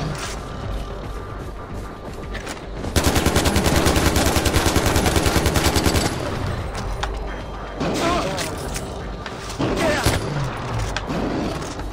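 Rapid automatic gunfire from the video game Far Cry 4, a loud dense burst of machine-gun shots lasting a few seconds, surrounded by quieter game noise and scattered later shots, with someone talking over it.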